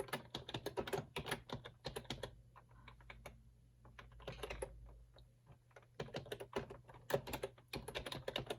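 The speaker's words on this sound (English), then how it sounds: "In the subject line of the email, I always type in the subject of the email." Fingers type on a computer keyboard in close, crisp bursts of rapid clicking with brief pauses between runs, no voices present.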